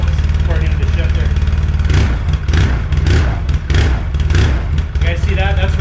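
An ATV engine with a reverse gear that binds runs steadily and loudly close by as the rider shifts into reverse, with a continuous low rumble and slight surges in pitch.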